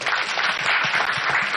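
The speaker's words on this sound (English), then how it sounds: "So let's clap for PS." An audience applauds a Kenyan Principal Secretary at a government address, a steady dense wash of clapping that holds at an even level for its whole length, with no voices over it.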